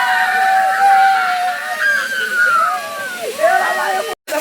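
Feet wade and slosh through shallow water beside a hidden waterfall, a steady close churning splash under excited talking voices, with the constant roar of falling water behind.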